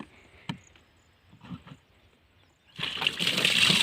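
Water pours and sloshes into a sprayer tank being filled for spraying herbicide on a farm, a steady rushing splash building up loud in the last second after a few quiet knocks and handling sounds.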